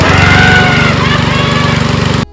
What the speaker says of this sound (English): I don't know, it looks like the same lawnmower.